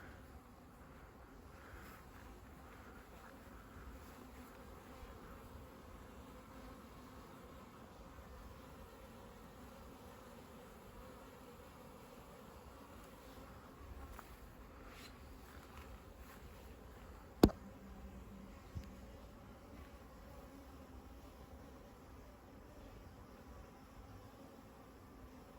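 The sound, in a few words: bees buzzing inside an ancient church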